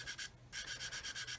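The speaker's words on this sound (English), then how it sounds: "I'm just going to blend that in using the fine side of the fine sanding stick." Fine side of a fine sanding stick rubbed gently over a plastic part of an Airfix 1/32 Humber scale model, a soft rhythmic rasping in short even strokes, faint and close, one brief pause.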